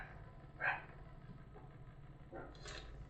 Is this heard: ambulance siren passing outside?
no